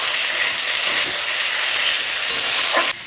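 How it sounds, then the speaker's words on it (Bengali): Poppy seed paste is stirred in a hot pan, giving a loud continuous close sizzle and hiss with faint scraping, cutting off abruptly at the end. "এটা পোস্তটা অল্প একটু ঘুরিয়ে নেবো"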